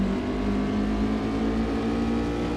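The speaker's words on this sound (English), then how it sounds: "it just wants to spin the wheels, and I don't really know what to do about that" An Alfa Romeo in a PS2 racing game spins its wheels at launch, giving a steady, strained engine drone that holds at high revs without letting up.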